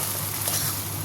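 Okra frying in a pan with a steady, close, loud sizzle throughout, with soft stirring underneath.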